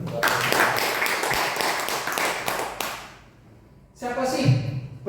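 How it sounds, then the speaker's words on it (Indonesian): Attendees at a health and wellness business opportunity meeting clap in a dense, loud burst for about three seconds, then the clapping dies away and a voice starts speaking. "Tepuk tangan dulu."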